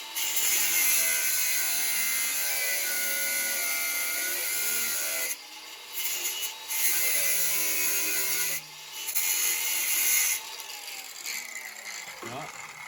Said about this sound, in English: Right, put this on the belt sander now.